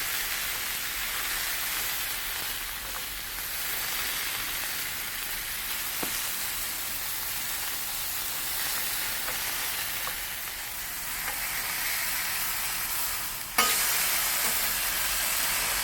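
Smash burger patties of 80-20 ground beef sizzling on a hot griddle, a steady loud crackling hiss throughout with a brief metallic clink near the end.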